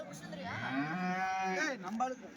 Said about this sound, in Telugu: చూడొచ్చండి ఇవన్నీ దూడలు